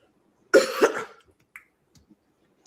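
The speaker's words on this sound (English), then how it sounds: "I feel like I had a cough." A single sharp double cough, close and fairly loud, followed by near silence with a few faint small clicks.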